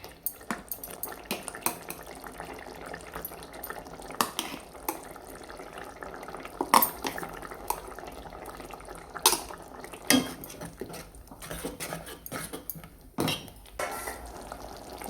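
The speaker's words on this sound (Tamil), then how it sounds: "இப்போ நம்ம அரைச்ச தேங்காய் பேஸ்ட்டை போட்டுக்கலாம்" Ground coconut paste going into a pot of simmering vegetable kurma, with repeated sharp clinks and scrapes of a spoon against metal over a soft bubbling background.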